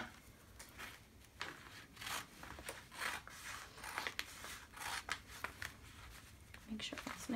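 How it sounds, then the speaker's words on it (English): Scissors cut felt to size for a no-sew memory matching game, giving quiet, close, repeated snipping and crisp slicing strokes in an irregular rhythm. "right now we're just going to measure it and cut it to size"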